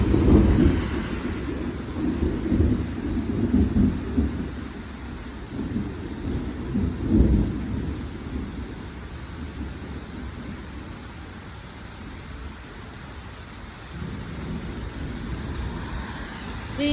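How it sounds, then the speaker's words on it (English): A heavy thunderstorm fills the scene with steady loud rain on the street, as several deep rumbles of thunder roll through, the biggest near the start and middle. "We get some big thunder. Big thunder right now."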